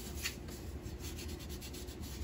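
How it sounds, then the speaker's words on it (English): Steady soft rubbing of an alcohol-dampened rag against a walnut bowl, continuous and close, with no talking. "alcohol on a rag here and wipe it down"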